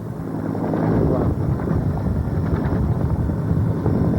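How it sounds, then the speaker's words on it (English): Steady, heavy wind buffeting the microphone with a low roar at an outdoor air show at Quonset Point in 1993, constant and loud throughout with no pauses. "you notice today we've got a particularly windy day."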